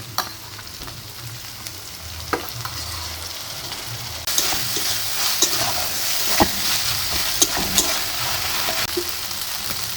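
Ginger, garlic and cumin paste hits softened fried onions in a pan, the steady sizzle jumping louder midway as the paste goes in, with scattered stirring clinks and scrapes close by.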